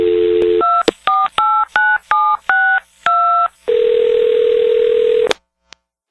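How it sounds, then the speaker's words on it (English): A telephone call being placed: a steady dial tone, then a quick run of touch-tone keypad beeps, then a long ringing tone that cuts off, loud and close with no talk. "So let's get Allison on the phone"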